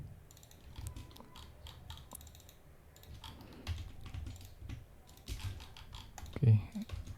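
Quiet clicking of keys on a computer keyboard during SketchUp modelling work, irregular short taps spread across the stretch, close and faint, with no speech over them.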